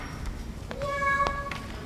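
A single cat meow, short and clear, rising then settling, heard alone over a quiet background.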